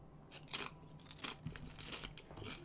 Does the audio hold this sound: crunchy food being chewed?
yes